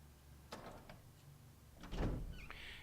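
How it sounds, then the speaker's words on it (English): A door in Resident Evil HD unlocks and opens: a faint click and brief mechanical rattle, then a louder sliding creak and swing a moment later, quiet and close with no talking. "unlock the door."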